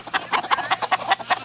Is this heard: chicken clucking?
yes